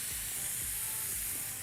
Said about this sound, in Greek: το αφήνουμε λιγάκι να σοταριστεί